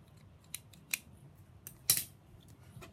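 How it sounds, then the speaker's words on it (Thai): A wire stripper cuts and strips electrical wire at an electronics workbench, making a few quiet, crisp snips and a louder closing snap near the end. "จะเป็นตัวปอกเปลือกสายไฟนะครับ"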